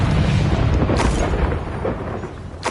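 A Confringo fire spell explodes in Hogwarts Legacy, a loud, dense rumbling blast with crackling bursts that sustains for a couple of seconds, then eases off before a last sharp pop.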